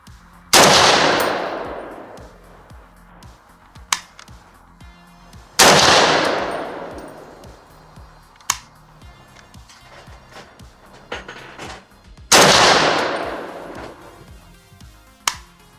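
AK rifle fitted with a side rail mount, fired outdoors: three loud sharp shots with long decaying echoes, spaced several seconds apart, and smaller clanks and thuds between them.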